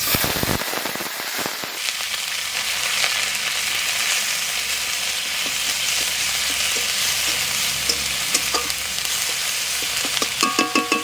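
Grated onion and cumin fry hard in a hot pan, a loud, dense sizzle with crackling pops that carries steadily from start to finish, with no one talking.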